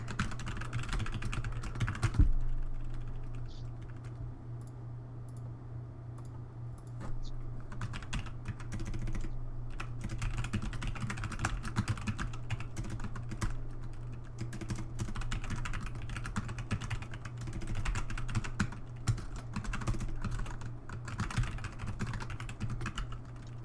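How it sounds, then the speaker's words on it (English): Rapid, uneven clicking of keys on a computer keyboard runs nearly nonstop, close and fairly loud, with brief pauses over a low steady hum. "Do we like the sound of my keyboard?"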